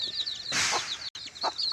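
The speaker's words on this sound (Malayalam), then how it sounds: "എന്റെ കുറച്ച് കോഴികളെ നിങ്ങൾക്ക് കാണിച്ചു തരാം ഒരാഴ്ചയായ നല്ല നാടൻ കോഴികളാണ് ഇത്" Close, continuous high peeping and soft clucking from a group of week-old native chickens, with one brief louder burst in the middle.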